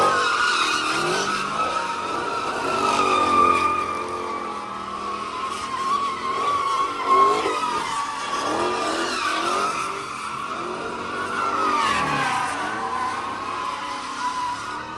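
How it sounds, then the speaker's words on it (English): A car does donuts at a street takeover. Loud, sustained tire squeal and skidding mixes with engine revving and holds steady throughout with rising and falling pitch. "car doing donuts?"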